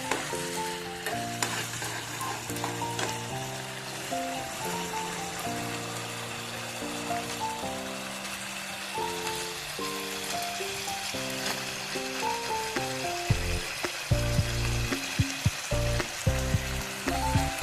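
Fish for chili fish sizzles steadily in a pan with tomato sauce and soy sauce while being stirred, a continuous close frying hiss under background music, with no talking.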